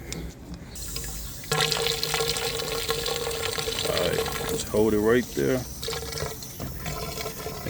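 Water pours from a garden hose nozzle into a container outdoors, a steady rushing fill that rises in pitch as it nears full, with someone talking over it.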